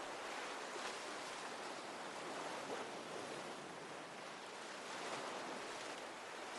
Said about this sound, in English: I felt the power of the waves, one after the other, pushing past my legs to meet the shore, and then pulling back into the ocean.